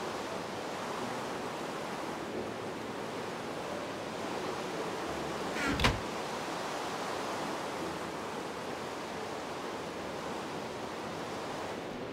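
Steady ocean surf washing in a Minecraft world, a constant broadband roar of waves with a brief louder swell near the middle, heard alone without voices.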